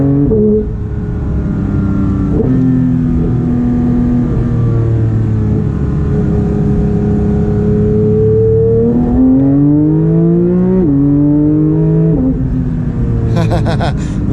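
Loud, close engine roar from inside a Porsche 992 GT3 in sport mode, pitch climbing and dropping through PDK gear changes as it accelerates, with a faint voice briefly underneath.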